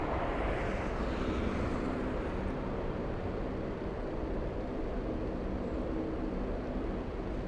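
Airbus A380 airliner on final approach at LAX, a steady broad engine roar and rush of air holding at a constant level throughout with no talk.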